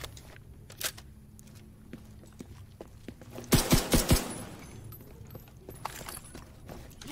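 Gunfire in The Division 2 video game, scattered single shots and then a loud burst of rapid automatic fire in the middle, with further sporadic shots trailing off against low background noise.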